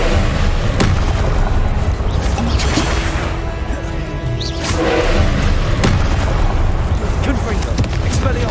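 A fire spell cast in the Hogwarts Legacy video game, heard as loud booming blasts and crashing impacts in steady succession amid ongoing combat effects, with a voice calling out over the action.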